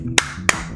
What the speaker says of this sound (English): Why did they hit the double claps?